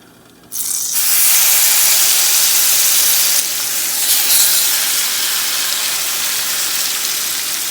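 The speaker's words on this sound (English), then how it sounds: "I'm going to go ahead and add in the salmon, skin side up." Salmon fillets are laid skin side up into a hot pan with olive oil for hot honey garlic salmon. A loud, steady sizzling hiss bursts in after a moment of quiet and holds close and strong to the end.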